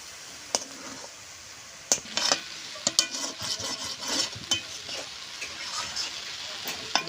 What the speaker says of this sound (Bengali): এরকম করে নেড়ে চেড়ে সুন্দর করে ভেজে নেব।